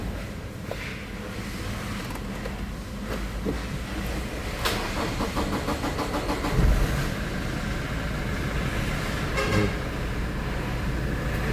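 A Toyota Innova with a 1GD diesel engine, suffering power loss, cranks and turns over amid steady workshop noise, with a rough idle settling in close by and brief clanks along the way.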